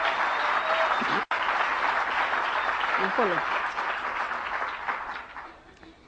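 Applause from a convention audience: a dense, steady clapping that holds strongly, then gradually thins and fades toward the end, with a brief spoken exclamation heard early on.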